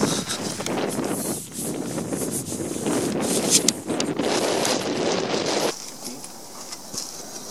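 Strong wind blows at a hilltop fort and buffets the microphone in a loud continuous roar with gusty swells, easing noticeably near the end.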